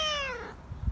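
A curious young cat gives one drawn-out meow that slides downward and fades, close by, followed by faint low thumps.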